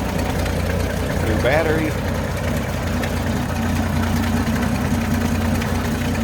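A 1968 Chevy C10 pickup with a 250 inline-six, slight exhaust leak, idles steadily at close range with a low, even rumble throughout, while someone speaks briefly over it.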